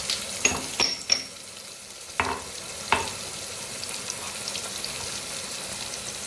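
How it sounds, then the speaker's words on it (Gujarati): Spices such as asafoetida, garam masala, red chili, turmeric and coriander-cumin powder stirred into food frying in a pan: a soft sizzle under several sharp spoon scrapes and clinks, spaced irregularly and fairly close. "સરસ બધું મિક્સ કરી લઈએ."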